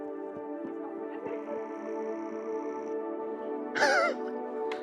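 Crows caw repeatedly outdoors, one loud harsh call standing out near the end amid fainter calls, with a steady low background hum throughout.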